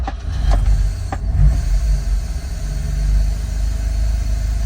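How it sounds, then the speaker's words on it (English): A 1958 Lancia Aurelia B20S GT Series VI cranks briefly and catches, settling into a loud, steady close-up idle with a rough low rumble and no talking. "Engine starts right up."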